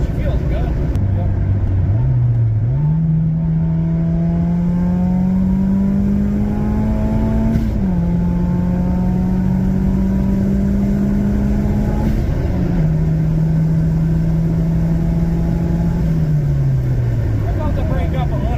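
A turbocharged Honda Integra engine revs hard and holds high, its pitch climbing in long pulls with brief drops between gear changes, loud and close throughout.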